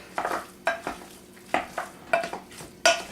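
Oil is stirred into food in a pan for turkey chili with a utensil, making a series of five or six short, moderately loud scraping strokes close by over a quiet background.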